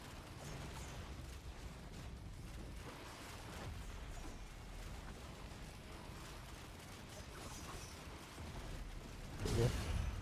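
Missiles launch and explode in the video game Risk of Rain 2 amid a dense, continuous wash of rumbling, clattering combat noise, with a louder blast near the end; no one speaks.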